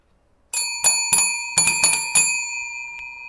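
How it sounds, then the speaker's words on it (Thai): A small hand bell is rung in about six quick bright strikes that shimmer and ring on, close and clear in a quiet room. "ผมกำลังเหอกระดิ่งนิดนึงนะครับ"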